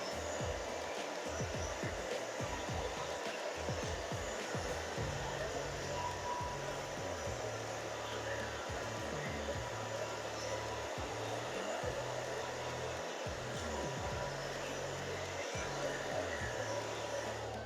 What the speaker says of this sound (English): then you're just gonna dry down in the back, Valerie.